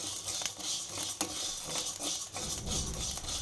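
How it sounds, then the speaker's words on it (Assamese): Rice grains frying and popping in a hot pan, small batches stirred as they puff and brown, giving a steady close crackling patter with occasional scraping clicks throughout. "এতিয়া মই এইখিনি অলপ অলপকৈ ভাজিম।"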